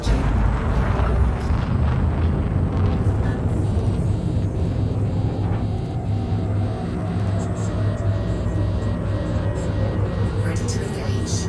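A frameshift drive charging aboard a ship in Elite Dangerous near a white dwarf: a loud, steady mechanical roar with a slowly rising whine, running continuously for about twelve seconds, with faint voice-like sounds layered in.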